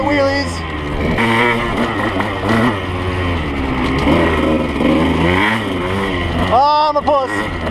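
A 1983 Yamaha IT175 dirt bike engine revs and drones steadily up close through the whole stretch, with a sharp rising and falling rev burst near the end, while people talk over it.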